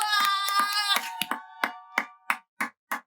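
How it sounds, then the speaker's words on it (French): Sharp claps in a church service, starting as a dense burst over sustained voices and tones, then thinning to single, evenly spaced hand claps that fade out. "Est-ce que vous pouvez faire un tonnerre d'applaudissements?"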